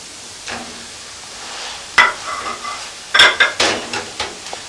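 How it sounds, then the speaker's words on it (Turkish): Minced meat is tipped onto onions already sautéed for five minutes in a hot pan with butter and olive oil, giving a soft sizzle broken by several sharp scrapes and clatters of stirring. "5 dakika kavurmuş olduğumuz soğanın üstüne kıymasını ilave ediyoruz"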